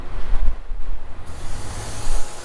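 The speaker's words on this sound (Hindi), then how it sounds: "भाई यहाँ पर बहुत ही तेज़ हवा चल रही है, बहुत ही ज़्यादा ठंड है यहाँ पे।" Strong, cold blizzard wind roars and buffets steadily outdoors, a loud, continuous rumbling gust with no voices.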